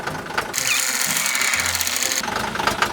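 A 2007 Hyundai Mighty truck with about 700,000 km runs close by. Its engine gives a loud, steady mechanical rattle with a low drone that swells in the middle and then eases back. No one speaks.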